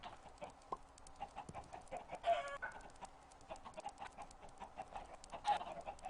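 Chickens cluck repeatedly in a modded Minecraft farm game, soft, scattered clucks at moderate distance with a few louder squawks and no talking.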